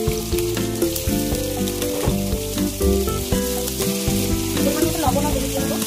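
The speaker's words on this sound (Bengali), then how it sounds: "প্রথমে তেলে কালো জিরে সম্বর দিয়ে আলুটাকে ভেজে নেবো।" Potatoes fry in hot oil with black cumin, a loud, continuous close sizzle and crackle with occasional stirring clatter, no talking.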